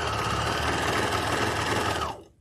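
A serger sewing machine runs steadily at close range with a dense mechanical whir, then winds down and stops near the end.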